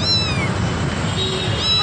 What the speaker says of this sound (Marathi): 5000मध्ये पर्शियन कॅट.